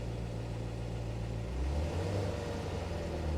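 A C7 Corvette engine fires up and revs briefly, a deep rumble rising midway, then holding at a steady, close, fairly loud idle with no talking.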